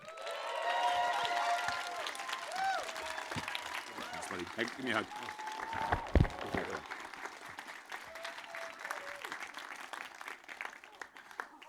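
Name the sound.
conference audience applause welcoming speaker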